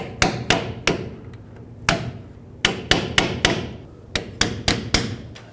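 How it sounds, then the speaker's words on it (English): Hammer blows on a pry bar wedged against a bent inner tie rod lock on a 2001-07 Toyota Sequoia: a dozen or so loud, sharp metallic whacks at an irregular pace, close by, with no talk. "So put a pry bar in there and just hammer it out."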